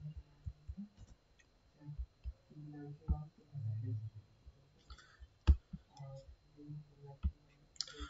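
Computer keyboard keys clicking in scattered bursts during Java coding in NetBeans, fairly close, mixed with someone speaking throughout.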